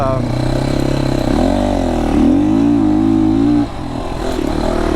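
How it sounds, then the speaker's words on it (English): An FSE300R motorcycle engine runs close by and rises in pitch as the throttle is twisted, revving up, holding briefly, then dropping back to a lower steady idle-like drone, with a voice talking over it. "when you twist the throttle, the power's there"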